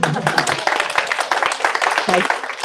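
An audience at a business meetup applauds a speaker in a dense burst of clapping, mixed with voices talking over it.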